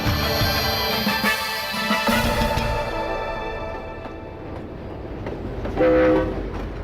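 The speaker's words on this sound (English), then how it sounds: "a Royal Mail train made its run from Glasgow to London" A Royal Mail train rumbling along with a steady mechanical roar and faint rail clatter, a horn sounding briefly near the end.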